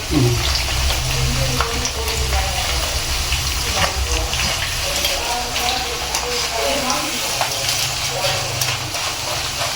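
Banana slices frying in oil for crispy Kerala banana chips, a continuous loud hiss and bubbling sizzle nearby throughout.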